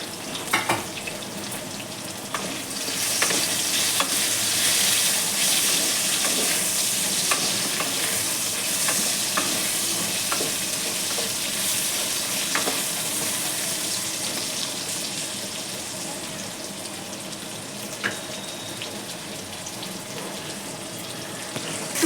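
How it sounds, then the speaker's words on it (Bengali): Diced potatoes fry in a pan with salt and turmeric, giving a steady, close sizzle for the whole stretch, broken by scraping stirs and a brief burst of running water near the start; no one speaks. "এখন আমি এই আলুটার মধ্যে অল্প একটুখানি নুন আর অল্প হলুদ দিয়ে আলুটা ভেজে নেব।"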